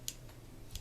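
The clicker on a Langley Streamlite 310 fishing reel gives two sharp, faint clicks close by, spaced well apart against a quiet background.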